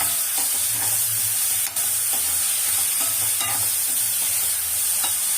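Onions sizzle in a hot pan while a spoon scrapes and stirs them in repeated strokes, giving a continuous close frying hiss with no voices.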